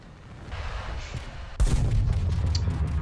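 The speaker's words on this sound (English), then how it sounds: "And that would be a Mica missile." A Mica missile strikes an aircraft in a combat flight video game: steady engine rumble, then a sudden loud explosive boom that leaves a rough, crackling roar behind it.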